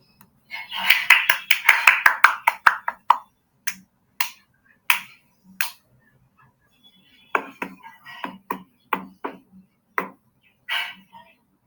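Sharp, dry hand claps, first a rapid burst of a dozen or so in quick succession, then single claps spaced out, then another looser run, each crisp and close in an otherwise quiet room.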